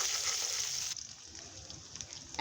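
Chopped onions and green chilies frying in oil, a soft steady sizzle that is hissier at first and then settles into a quieter crackle, alone and fairly faint.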